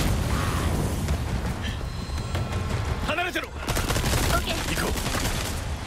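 Cannon fire in the Resident Evil 4 remake: booming shots and bursts of gunfire thud through a busy game mix, while players talk over the action.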